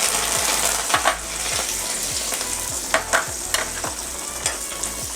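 Chilies, fenugreek seeds and curry leaves spit and sizzle in hot oil for a kadhi tempering, a close steady crackle punctuated by sharp pops and regular stirring scrapes, with no voice.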